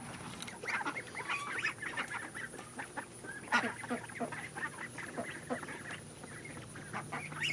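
Ducks quacking and honking in a backyard garden, a busy run of calls close by with other fowl sounds mixed in, steady throughout with a little background noise.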